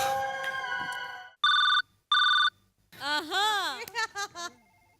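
A telephone ringtone chirps in two short bursts after a synthesized melodic tone, followed by a warbling electronic ring, clear and close before a call is picked up.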